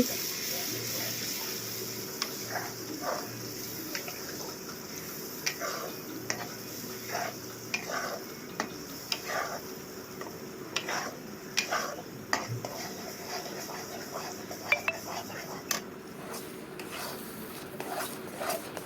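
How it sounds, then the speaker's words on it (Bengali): Spice masala being fried and stirred in a pan for stuffed spiny gourd, heard as a soft background sizzle with repeated scraping and tapping strokes of a spatula, moderately close. "মশলাটাকে ভালো করে কষিয়ে নেব"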